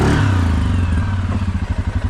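The engine of a 2011 Suzuki KingQuad 750 AXi 4x4 ATV runs in low range, a loud, close chugging that settles into a steady pulsing putter with some clattering.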